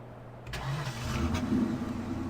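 A truck engine in Farming Simulator 2015 cranks and catches, then settles into a steady mid-pitched idle, close and moderately loud.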